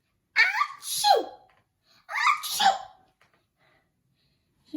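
A child imitates a bear's sneeze while reading a picture book aloud, two loud, close, wet achoo-style bursts about a second and a half apart, followed by quiet.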